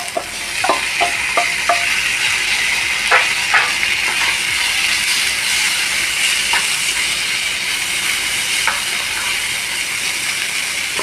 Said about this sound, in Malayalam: നമ്മൾ വേവിച്ച് വെച്ച ചെറുപയർ ഇതിലിടാം.